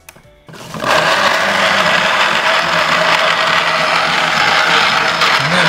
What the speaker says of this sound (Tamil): அந்த லிக்விட் ஜாரில் ஜூஸ் அரைச்சி பார்க்கலாம்